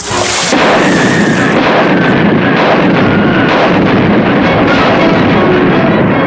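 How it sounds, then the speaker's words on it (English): A loud, sustained roar of heavy booming ship's cannon blasts, rolling continuously with rumbling noise throughout and no voices. "I'll get them with the cannon. I'll blast them off the ship."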